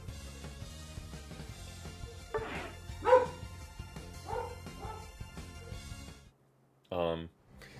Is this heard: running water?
no